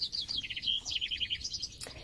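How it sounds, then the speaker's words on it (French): Small birds chirp outdoors in nature, a quick run of high, bright tweets repeating in irregular bursts, soft and a little distant, with no voices over them. "comme nous entendons les oiseaux"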